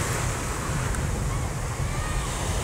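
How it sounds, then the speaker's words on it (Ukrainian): Sea surf washing onto a beach after a storm at Sunny Beach, Bulgaria, a steady loud roar of churning water stirring up sand, with wind buffeting the microphone throughout. "Це ось тут біля берега зараз із-за шторму, бачите, вода і хвилі піднімають пісок"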